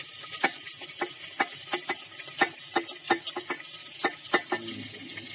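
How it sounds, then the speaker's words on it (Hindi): Mutton frying in a pan with ginger garlic paste, a steady sizzle broken by repeated sharp scrapes and knocks of a spoon stirring against the pan at an irregular rhythm, close and clear with no talk. "अब हम इसको भून रहे हैं"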